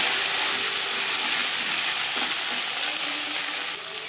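Potatoes hitting hot oil with cumin seeds and slit green chillies, a loud, dense, continuous hissing sizzle up close that eases slightly near the end.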